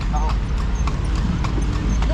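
Horse hooves clip-clop in a steady rhythm as the animal pulls a tartanilla carriage through Cebu, close by, with voices talking over the clopping.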